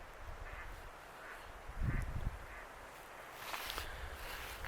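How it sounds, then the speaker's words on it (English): Ducks quack outdoors on a foggy, chilly mountain backpacking trip in central Utah, a few short moderately distant calls spaced across the stretch with wind and footstep-like thumps around them and no talking. "Oh, there's ducks."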